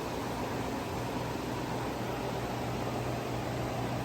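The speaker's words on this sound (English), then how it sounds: "the separated PET bottles are being fed into the processing machine before they are crushed into flakes" A plastic recycling machine at a large plant in Port Harcourt, Nigeria, processes PET bottles being fed in before crushing into flakes, giving a steady, loud broadband roar with a low hum throughout and no voices.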